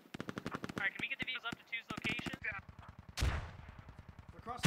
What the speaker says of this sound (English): They got those guns turned on them, the heavy guns.